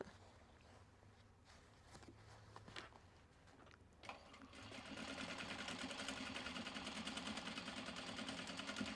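A sewing machine stitches Japanese fabric for a drawstring bag, starting after some quiet handling clicks and then running in a steady, fast, buzzing whir that continues to the end.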